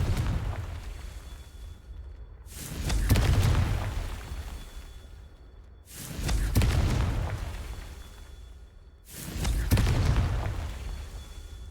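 Confringo fire-blast spells exploding in Hogwarts Legacy, three loud booming bursts spaced a few seconds apart, each with a deep rumbling tail fading before the next.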